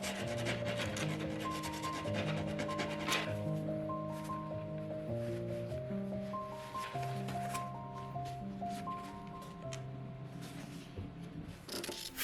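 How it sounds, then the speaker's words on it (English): Steady, close rubbing and scraping from sanding the cut edges of corset boning smooth continues throughout with a gentle, even rhythm. Soft tonal music plays underneath. "The edges have to be sanded smooth so they don't break through the fabric"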